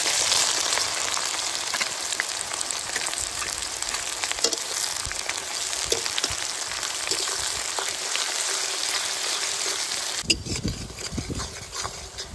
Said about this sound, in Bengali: পেঁয়াজ কিন্তু ভাজা ভাজা কমপ্লিট